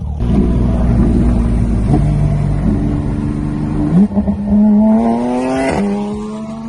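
A Porsche GT3 drives past loudly: a high-revving engine climbs through the gears with quick shifts, its pitch rising sharply as it nears, then wailing and receding, strong and continuous with no talking.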